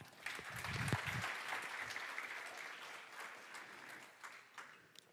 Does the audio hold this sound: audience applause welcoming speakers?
yes